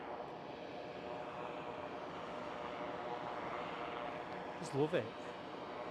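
Fixed-wing propeller aircraft with a PC-12-like nose at Edinburgh Airport, a steady broad engine roar held throughout at moderate distance, with a brief voice remark near the end.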